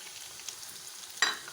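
Garlic and green chillies frying in a pan, a faint steady sizzle with a brighter crackling burst near the end.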